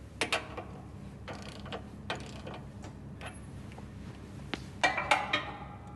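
A ratchet tightens a nut on a Great Plains planter row unit, giving scattered close mechanical clicks and metallic ticks, with a brighter burst of clicking near the end and no talk.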